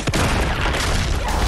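A rapid burst of gunfire from the video game Uncharted 2: Among Thieves, loud, dense and close, with sharp overlapping shots over about a second and a half.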